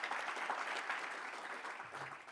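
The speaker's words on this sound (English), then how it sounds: "Let's give them a round of applause." A room at a school board meeting gives a short, faint round of applause. The steady patter of clapping stays quiet and distant throughout.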